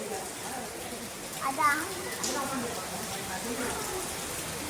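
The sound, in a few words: rain falling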